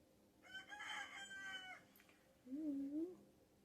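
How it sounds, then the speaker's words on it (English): A rooster crows nearby, one long drawn-out call followed by a shorter second crow, heard fairly clearly against a quiet indoor background. "The rooster agrees."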